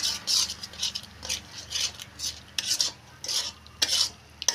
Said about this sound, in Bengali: এখন ভালো করে কষিয়ে নেব, মশলাটাকে ভালো করে কষাতে হবে।